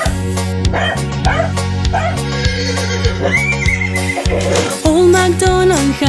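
Children's Old MacDonald farm rhyme playing as a loud, busy music track with a steady bouncy beat, with dog barks and yips mixed in among the music.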